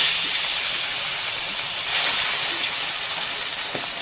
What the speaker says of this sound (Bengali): এদিকে দেখো তেলটা গরম হয়ে গেছে, আমি মাছটাকে দিয়ে দিই।